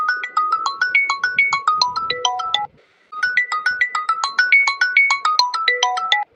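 A phone ringtone rings for an incoming call, playing a bright repeating electronic melody loud and close, pausing briefly before the tune starts again.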